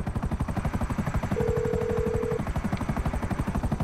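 Hydra jet in GTA 5 Online, a steady rapid thrumming engine pulse close and loud, with a sustained tone partway through.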